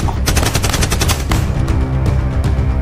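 Rapid bursts of gunfire in a shootout, sharp cracking shots in quick succession, loud and close, filling the whole moment without any talking.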